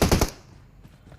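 Automatic gunfire in the mobile battle-royale game PUBG Mobile: a quick burst of three loud, sharp shots in rapid succession, followed by a low lingering tail and two fainter distant pops.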